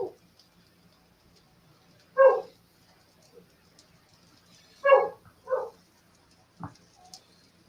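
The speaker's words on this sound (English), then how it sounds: "You can probably hear my dog in there barking." A few short, muffled dog barks sound at a distance in a quiet room, spaced apart with silence between them.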